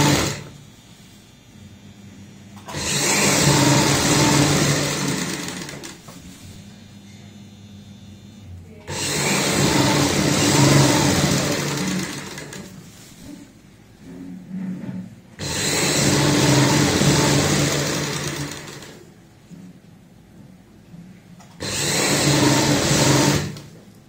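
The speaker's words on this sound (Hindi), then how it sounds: "यहाँ पे सबसे पहले सिलाई लगाएंगे" A sewing machine stitches a zipper onto a handmade travel bag, running in four steady whirring bursts of several seconds each, separated by quiet pauses, close and fairly loud.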